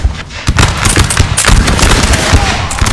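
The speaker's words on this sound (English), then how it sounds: "as you can hear, more shots going off" Musket volleys in a Napoleon: Total War battle, a loud continuous crackle of overlapping shots with sharper individual reports popping through a low rumbling bed.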